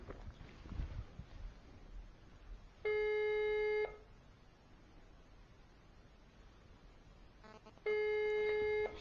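A GSM smart home fire alarm emits two steady electronic tones, each lasting about a second and spaced several seconds apart, ringing clearly above a low background hiss.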